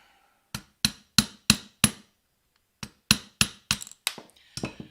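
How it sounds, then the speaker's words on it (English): Sharp metallic hammer strikes tapping a stuck part out of a vise while working on an RC truck differential, five evenly spaced blows, a brief pause, then a quicker uneven run of hits, loud and close with no talk. "Hammer's probably a little overkill"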